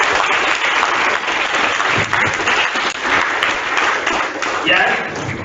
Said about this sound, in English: I would like to clap for yourself for the country